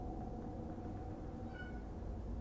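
A pet cat meows once, faint and brief, in a quiet indoor room with a steady low background hum.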